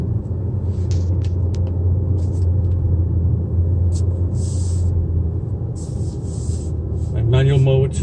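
A 2019 Mazda CX-5 with a 2.5L turbo engine drives around a roundabout, its steady engine and road drone heard from inside the cabin, with brief tonal chimes or beeps near the end.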